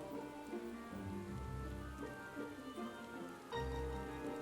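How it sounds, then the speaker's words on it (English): Rain falls steadily in the Final Fantasy 14 game world, a soft continuous hiss of drops on surfaces under low, droning background music, quiet and even throughout. "The equation is now complete for there to be rain."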